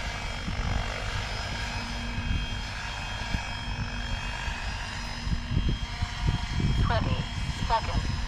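SAB Goblin RAW 700 RC helicopter with a Futaba CGY760R gyro flying, heard as a steady broadband rotor and engine roar with a constant whine, a few brief transients near the end.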